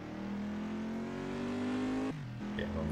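A race car engine in the Assetto Corsa driving game at Circuit of the Americas climbs steadily in pitch under throttle, then drops sharply on an upshift and pulls again. It sounds close and loud, with no voices.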